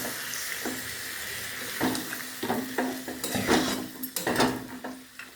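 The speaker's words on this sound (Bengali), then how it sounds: "অল্প সিদ্ধ হতে বাকি আছে তো অল্প জলই দেব, জল দিয়ে" Water poured into simmering spinach curry in a pan, a bubbling, splashing burst of stirring and liquid rising over a low steady hum, close and moderately loud, no voices.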